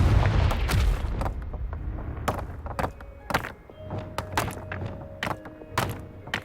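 Blasting spell explosions in Hogwarts Legacy, a video game on PS5, bursting as a rapid series of heavy booms and sharp thuds over game ambience, loud and punchy with no voices.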